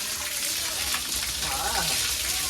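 Water pours steadily from the mouth of a Nandi statue at the Droneshwar Mahadev temple, a close, continuous gushing splash with voices faintly underneath.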